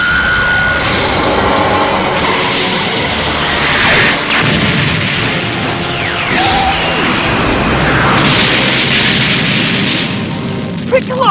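The Special Beam Cannon attack in Dragon Ball Xenoverse 2 fires as a loud, sustained energy blast, with booming, crashing rumbles and swelling hiss rolling on for several seconds amid game effects, a voice shouting over it.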